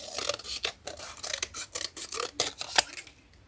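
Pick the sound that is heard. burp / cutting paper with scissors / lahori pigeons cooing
cutting paper with scissors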